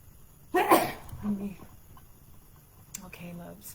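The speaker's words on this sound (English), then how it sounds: "I'm gonna sneeze here" A single sharp human sneeze bursts out close to the mic, followed by a few soft vocal sounds and quiet breathy noises in an otherwise calm indoor space.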